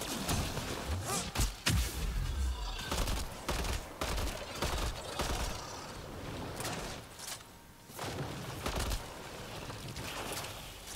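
Rapid bursts of gunfire from the Mass Effect: Andromeda video game crackle steadily throughout. The shots are dense and loud, with heavy thumps near the start and some background game noise mixed in.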